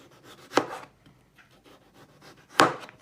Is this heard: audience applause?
no